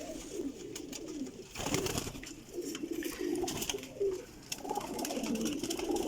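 Salara pigeons cooing in a loft, soft repeated throaty coos overlapping among several birds, with a brief flutter of wings.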